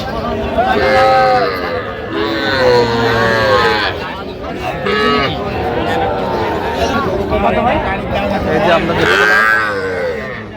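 Sahiwal heifer calves mooing at a busy cattle market, loud repeated lowing calls close by over constant crowd chatter and bargaining voices.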